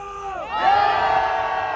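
Following a shouted call, a political rally crowd at Dongdaegu Station breaks into a loud, sustained cheer that rises quickly and holds steady, many voices blending into one roar.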